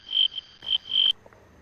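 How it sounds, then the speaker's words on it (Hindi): A frog calls in a Bali hotel room at night, giving three or four short, loud chirping croaks in quick succession, close by, with no talking over them. "मेंढक है"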